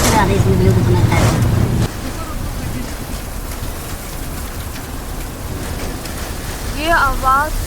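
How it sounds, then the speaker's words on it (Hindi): Steady heavy rain with hail pours down in a dense wash during a strong storm, with voices talking briefly at the start and a few faint whistling tones near the end. "ये आवाज सुनो बालाजी ने क्या बारिश करी है क्या गड़े पड़ रहे हैं इतना तेज तूफान"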